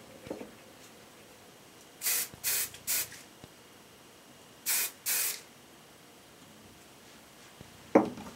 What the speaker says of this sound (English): we'll use some hairspray to cover that